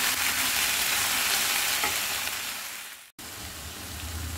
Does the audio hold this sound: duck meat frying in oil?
yes